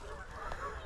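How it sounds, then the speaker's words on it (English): Canada geese honk faintly in the distance, a short, muffled burst of calls heard over a low outdoor background at a state park by a bay. "I can hear the Canada Goose Army is back and stronger."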